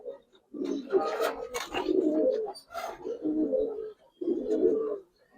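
Giribaz pigeons coo close by in repeated throaty, rolling bursts separated by short pauses, with no talking.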